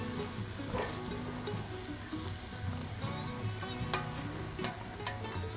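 Gumbo base sautéing in a pot toward a caramelized color, with a steady sizzle and frying hiss under continuous stirring and occasional scrapes of a utensil against the pot.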